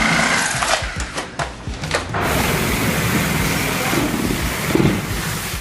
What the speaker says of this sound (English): look at the simplicity and speed you can expect when using a powered Super Shear